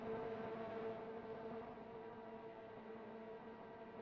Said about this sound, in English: So we can hear the revs rising.